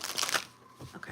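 Tarot cards shuffled in short riffling bursts, close and crisp, with a person talking briefly near the end.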